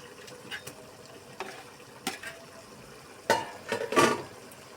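Shrimp coated in ground cumin and coriander paste gets stirred in a pan for a taro-stolon (kochur loti) dish: sparse, quiet scrapes and soft wet shuffles, with two louder stirring bursts near the end.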